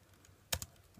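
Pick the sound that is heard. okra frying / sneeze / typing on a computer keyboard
typing on a computer keyboard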